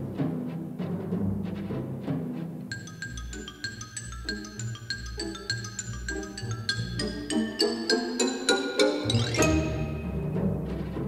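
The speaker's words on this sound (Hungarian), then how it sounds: "A xilofon." A xylophone plays rapid, bright struck notes in runs and repeated patterns within an orchestral piece, the Purcell-theme variations and fugue, rising to a dense climax over low orchestral accompaniment.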